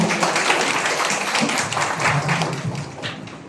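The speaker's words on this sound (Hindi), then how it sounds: "जोरदार तालियां होगी" Audience clapping at a district agriculture, cooperative and animal husbandry workshop as a senior scientist is presented with a potted plant, a dense, fairly loud round of applause that tapers slightly toward the end.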